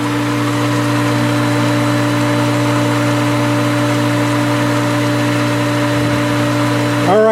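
A pool pump motor runs steadily during a pool opening, a constant close mechanical hum with no talk and only a slight shift near the end.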